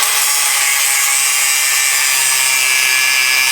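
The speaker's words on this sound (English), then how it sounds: "I had to pull out the old 12-volt hacksaw" A 12-volt powered hacksaw cutting through welded brackets on an old Ford truck frame, a loud continuous high buzzing rasp, close up with no pauses.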